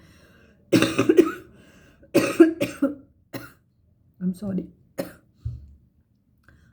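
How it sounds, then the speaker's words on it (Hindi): A person coughs in several harsh bursts, close and loud, with a brief spoken apology between the coughs. "अभी नहा लिया तो खांसी आनी शुरू हो गई।"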